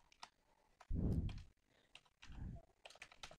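Someone types on a computer keyboard, a few soft scattered key clicks and short bursts of tapping, quiet and close with no talking.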